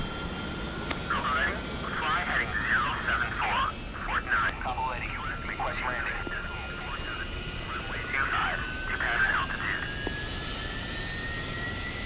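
Harrier jet engine spooling up in the DCS World flight simulator, a steady rising turbine whine that holds under intermittent speech, with a high tonal hum throughout.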